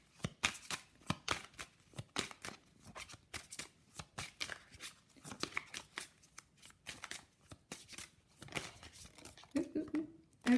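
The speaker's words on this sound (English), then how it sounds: "Gotta pull some love oracle cards for you." Love oracle cards are shuffled by hand in quick, repeated riffling bursts of papery flicks and slaps, close and fairly quiet, with a brief murmur of a voice near the end.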